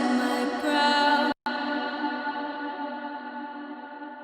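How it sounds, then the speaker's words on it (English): Heavy effects-laden vocal with a huge, never-ending reverb tail, the sustained wash cutting out for a brief moment before the long ringing decay swells back and trails on under distortion and chorus. "create that big, never-ending reverb"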